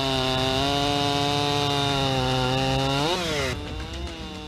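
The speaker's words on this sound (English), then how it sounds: "The precise and powerful cutting ability of the chainsaw helps him produce high quality pieces of wood material efficiently" A chainsaw cuts wood for furniture making, its engine holding a loud, steady high whine before the pitch bends and drops near the end as the saw eases off.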